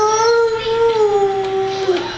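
A young child imitates a cow's moo with a drawn-out, wavering vocal tone close to the listener, sliding slowly downward in pitch like a low howl.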